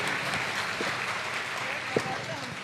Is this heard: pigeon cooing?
no